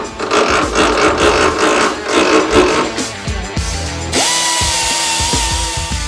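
A power tool grinds loudly and close through a weld on a gun, its harsh rasping cut pulsing unevenly before the motor note shifts into a steadier high whine.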